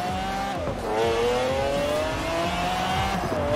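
A McLaren F1 GT racing in Forza Horizon 4, its engine revving high and shifting through gears with rising and falling whine, loud and close, with other cars roaring around it.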